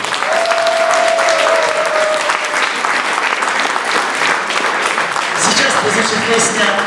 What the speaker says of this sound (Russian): И сейчас я хочу, чтобы вы встретили не менее бурными аплодисментами атамана Наумыча вместе с уральской артелью.